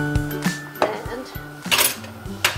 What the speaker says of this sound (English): all I'm gonna do is I'm gonna give it a quick stir